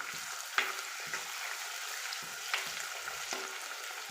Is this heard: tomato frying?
yes